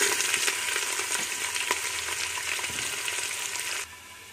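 Chopped onions hit hot oil already crackling with cumin, a loud, dense, steady sizzle that runs close and continuous for nearly four seconds before dropping off abruptly near the end.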